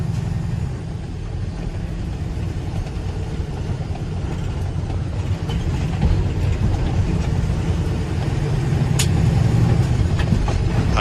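A steady, heavy low rumble comes from a 2008 Kenworth T800 truck's rebuilt 550-horsepower engine on the move, swelling slightly louder toward the end with no voices over it.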